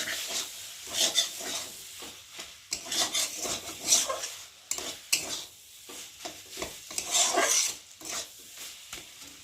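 Maggi noodles stirred in a pan with utensil scrapes and clinks against metal, irregular close scraping bursts over a soft sizzle, no talk.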